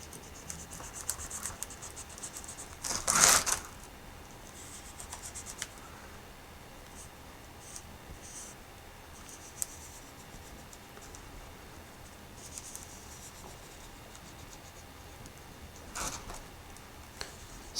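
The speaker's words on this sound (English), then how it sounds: "So I think I'm just going to trace a gusset here, or just draw one." Pen or marker drawing a gusset outline onto metal stock for a lowrider bicycle frame, heard as soft, close scratching strokes with a louder burst early on and faint ticks throughout.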